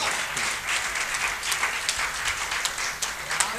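Audience applause at a Hindi poetry gathering: steady, moderately loud clapping from a crowd that continues throughout, with scattered sharper claps.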